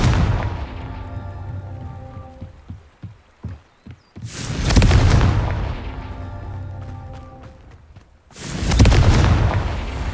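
Confringo fire spell explosions in the video game Hogwarts Legacy: two big, booming blasts several seconds apart, each rolling out into a long decaying rumble, with a few softer pops leading up to the first.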